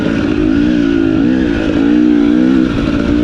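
The two-stroke engine of a 2021 KTM 250 XC TPI dirt bike drones loudly and close up while riding, holding a steady buzzing tone with slight rises and dips in revs, no voices.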